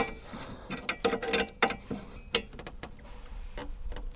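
A bolt tightened with an open-ended wrench while assembling a car, a series of irregular metallic clicks and ratcheting taps, close and alone.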